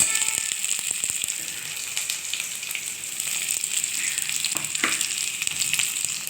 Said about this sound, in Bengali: এখন আলুটা ভাজা করে নিচ্ছি